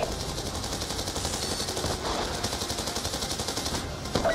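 Rapid sustained machine-gun fire pours onto a military convoy in the Black Ops 2 video game, dense rattling bursts at close range with a steady rhythmic chatter throughout.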